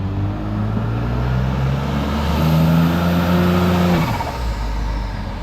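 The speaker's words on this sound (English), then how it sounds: "the engine is running" A rebuilt B9 Audi S4 engine idles with a deep steady hum, then revs up and holds a higher pitch before dropping back down, loud and close.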